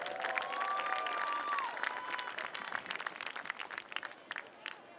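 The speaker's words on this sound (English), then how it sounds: "let's have one last applause for the seniors at Central Catholic High" Crowd applause and cheering in the stands for the seniors at a girls' varsity high school soccer game, steady broadband clapping that thins toward the end, with a whistle-like tone and voices early on.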